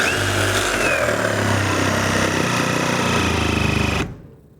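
A Ryobi HP brushless reciprocating saw runs loud and steady, its motor buzzing under heavy cutting pressure for about four seconds, then suddenly cuts out and falls silent.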